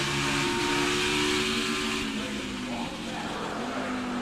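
NASCAR Xfinity stock cars racing at Watkins Glen road course, a loud roaring engine drone with a falling pitch as cars run close together, a commentator's voice faintly underneath.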